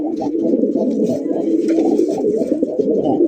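Pigeon cooing close by, a continuous low warbling coo with throaty pulses, loud and alone.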